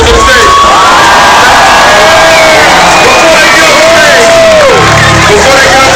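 A large audience at a Detroit stop of the Unashamed Tour 2010 roars for married couples on stage, with loud, dense cheering, whoops and shouts filling the whole stretch, close and continuous.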